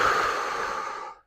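A person exhales in one long audible breath during a couch stretch, breathy and close, fading out after about a second with no speech.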